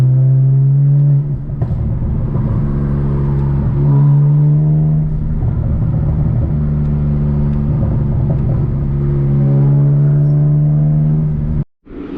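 A BMW E92 335xi with the N54 engine and a VRSF race/street exhaust idles loudly and close, a deep steady drone with a throaty rumble and a few light revs, then cuts off abruptly near the end.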